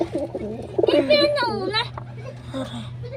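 Pigeons coo in soft, throaty bursts close by, with a higher voice-like call mixed in over a low steady background hum.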